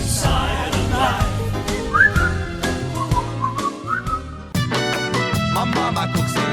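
A melodic whistled tune from a song, loud and continuous over a bouncy musical backing with guitar strums. The whistled line rises and falls for several seconds before the accompaniment turns fuller.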